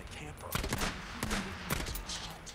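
Gunfire in Days Gone comes in a quick series of sharp cracks, a few bursts spaced over a couple of seconds, with a voice talking between them.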